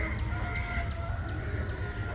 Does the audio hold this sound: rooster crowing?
yes